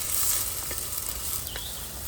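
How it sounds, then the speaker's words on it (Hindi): Onions sizzling as they fry in a pan for a Goan crab xec xec: a steady, close hiss of frying runs throughout, with a few faint scrapes and clinks of stirring and no voices. "प्याज को अच्छी तरह से भून लेना है।"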